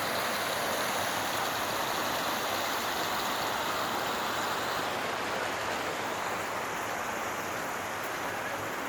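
Floodwater surges forcefully over a submerged road, a steady, dense, broadband roar of rushing water that holds constant and fairly loud throughout, with no talk.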